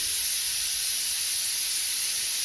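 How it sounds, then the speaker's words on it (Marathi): A steady, loud hiss of steam escaping under pressure from a pressure cooker whistle, continuous and unbroken throughout. "हे बघा कुकरला शिट्टी पण आली लगेच"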